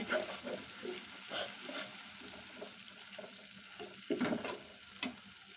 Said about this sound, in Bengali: আমি একটু লাড়িয়া দিলাম।